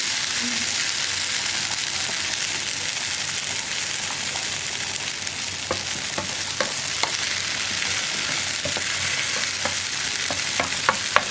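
Raw banana and egg stir-fry for a Kerala-style mezhukkupuratti sizzles steadily in a pan, with a constant frying hiss and scattered sharper ticks and spatters building toward the end.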